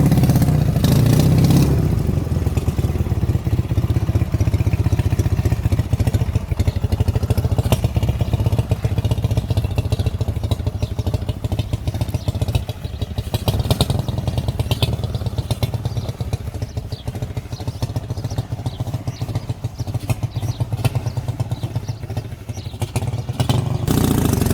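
A Dnepr MT-11 motorcycle engine runs loud and close for the whole stretch, a steady rough mid-pitched drone with clattering, a few revs rising as the bike rides off along a forest track.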